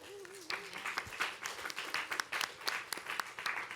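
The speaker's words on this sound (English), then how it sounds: "the applause are for everybody in FPA" Applause from an audience at an FPA event presentation, a steady dense patter of many hands clapping at moderate distance that continues throughout with no break.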